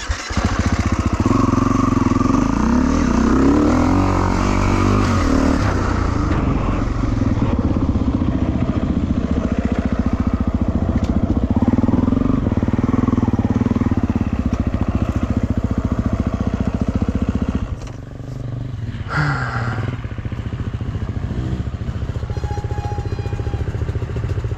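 A motorcycle engine runs loud and close, holding a steady rough drone for most of the stretch before it drops lower near the end.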